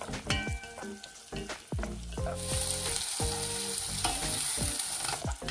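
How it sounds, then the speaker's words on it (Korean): Garlic, onion and peperoncino stir-fry in melted butter in a pot, with a steady close sizzle that swells louder partway through, broken by the clatter of stirring. "버터가 녹으면 마늘, 양파, 그리고 페페론치노를 넣고 달달 볶아줍니다."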